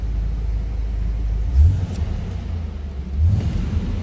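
A 1990 Ford Mustang ASC McLaren convertible idles nearby with a steady low rumble, giving two brief throttle blips about a second and a half apart; no one speaks.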